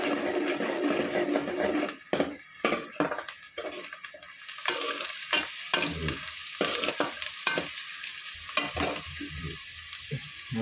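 Asafoetida dropped into hot oil with soaked chickpeas frying for a Kathiyawadi-style dish, a loud steady sizzle broken by repeated scraping stirs of a spoon against the pan, close up with no talking.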